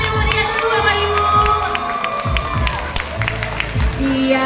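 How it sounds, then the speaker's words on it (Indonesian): Parents and children at a kindergarten performance by TK Bina Pelita Global cheer and shout in a loud, dense, steady crowd roar with scattered clapping and high children's voices throughout. "Kasih tepuk tangan yang meriah dulu bapak ibu"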